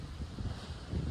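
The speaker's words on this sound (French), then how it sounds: "plus je me rapproche de l'eau et plus il y a du vent" Wind near the sea at Saint-François buffets the microphone in a brief burst of low, rumbling, uneven gusts.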